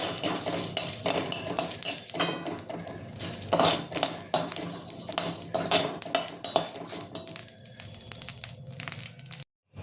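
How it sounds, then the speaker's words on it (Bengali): Whole spices are dry roasted in a kadai with a metal spatula, producing steady scraping, stirring and clinking against the pan along with dry rustling, close and clear, with no voices. "গোটা মশলাটা ড্রাই রোস্ট করে নেব"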